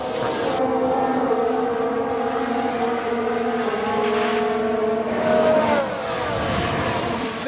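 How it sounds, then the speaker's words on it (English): Racing cars in F1 Manager 2022 drone steadily with layered engine tones before a single car crashes, a brief louder surge and shift in the engine noise around the impact, all continuous and fairly loud. "There's been a crash. Sounds like a single car."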